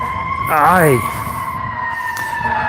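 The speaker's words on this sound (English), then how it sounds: "Sorry about the siren." A siren wails steadily in the background, rising and falling, while a person talks briefly over it.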